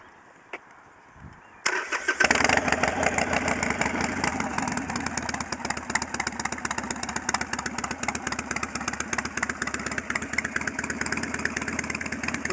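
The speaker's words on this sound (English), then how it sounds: "I'm gonna fire it up here for you and" A 2010 Harley-Davidson 883 Iron motorcycle cranks and fires up close by, then settles into a loud, steady, lumpy idle that runs to the end.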